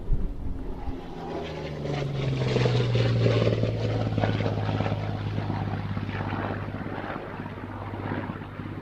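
A Spitfire's propeller engine taxis at Duxford airfield, a loud, steady, throbbing drone with a deep tonal hum that rises slightly and then holds, close by and with no talk over it.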